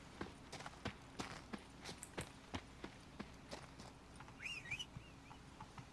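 Horse hooves clip-clop in The Witcher 3: Blood and Wine, a string of fairly loud, evenly paced hoofbeats as the horse walks up. A brief whistle-like tone sounds near the end, and no one speaks.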